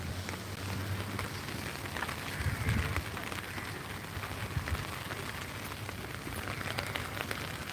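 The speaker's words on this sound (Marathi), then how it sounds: "इथे पाऊस कधी पण येतो कधी पण जातो" Steady rain falls outdoors at Marina Park in the Andaman Islands, making a soft, continuous patter and hiss at a low level with no clear speech.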